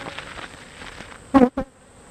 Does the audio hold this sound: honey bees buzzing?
yes